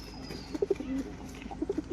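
Pigeons of a long-bodied flying breed, an active pair, coo in a short run of soft, close, rhythmic throaty calls with low background noise and no talk.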